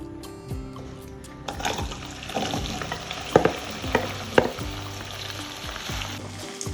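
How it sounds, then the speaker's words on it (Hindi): Okra tipped into hot oil with about four tablespoons in the pan, crackling and sizzling steadily at close range with sharper pops and spatters midway through and no voices. "भिंडी को ऑयल में ऐड कर दिया।"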